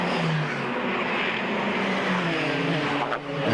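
Formula Palmer Audi single-seater race cars at Brands Hatch in 2001, a loud, continuous engine roar from a close pack of cars driving through a chicane, with a brief dip near the end.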